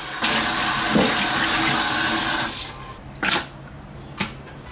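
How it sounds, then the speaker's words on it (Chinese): Tap water gushes steadily as chicken drumsticks are rinsed in a kitchen sink, then cuts off, followed by two short splashy bursts of running water. "我们把那鸡腿洗一下哈"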